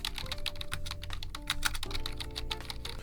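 Rapid typing on a Razer Ornata V3 X keyboard, with soft, muted key clicks in a quick irregular flurry, close and fairly quiet over faint background music.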